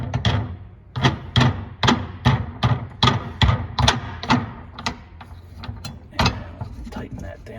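The jack and spare tire holder of a Ford Edge is tightened down. A series of loud, close ratcheting clicks and mechanical clunks comes in an uneven rhythm, with short pauses between turns.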